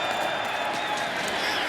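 A home crowd at an XFL football game between the Arlington Renegades and the St. Louis Battlehawks roars and applauds in a dense, continuous wash of noise while a commentator talks over it.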